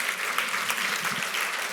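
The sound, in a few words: audience round of applause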